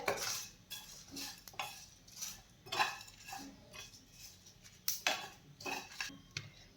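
Whole spices with a bay leaf dry-roasting in a pan for a Kolhapuri-style vegetable curry, with a spoon scraping and clinking against the metal in irregular stirring strokes, close and moderately soft, with no voices.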